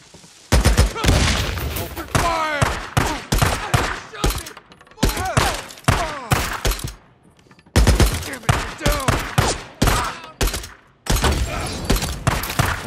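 Heavy gunfire erupts in a Days Gone firefight at Camp Pioneer, loud rapid bursts of automatic and single shots in clusters with brief pauses, mixed with shouting voices.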